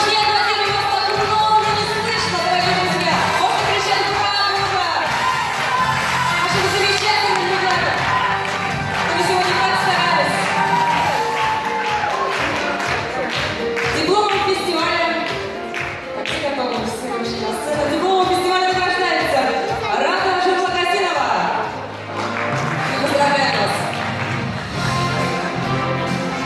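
Steady applause fills an award ceremony hall as participants in the 11–15 age category head up to the stage, the clapping dense and continuous throughout, mixed with crowd murmur and occasional shouts.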